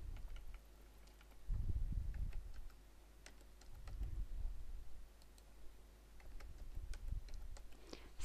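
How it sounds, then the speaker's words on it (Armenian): Quiet clicks of keys on a computer keyboard as an ID is typed into a login window, coming in short bursts with pauses between them, close and soft, with no talk. "Բացված պատուհանի երկու տողում էլ հավաքում եք այն ID-ն, որը տրամադրել է ձեզ օպերատորը։"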